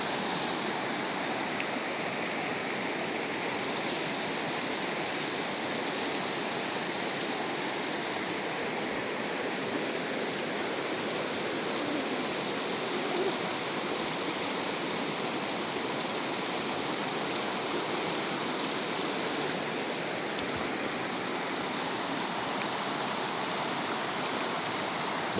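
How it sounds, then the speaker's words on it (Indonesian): Rushing water at the Gunung Pandan bathing spot in Aceh Tamiang, a strong stream flowing over large boulders, giving a loud, steady broadband roar with no pauses and no voices. "Batu-batu besar, airnya juga deras, menambah keindahan serta kenikmatan panorama"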